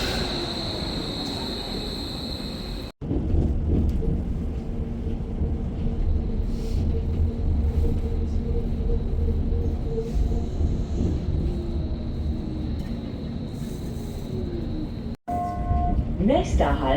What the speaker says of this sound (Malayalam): ഇവിടെ നിന്നാണ് നമ്മൾ അടുത്ത ട്രെയിനിലേക്ക് കയറുന്നത്.